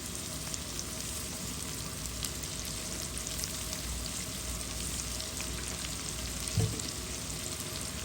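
Onion and green chillies frying in a pan with salt for a rohu fish curry, a steady soft sizzle running throughout at low level with one brief clink near the end, no voices.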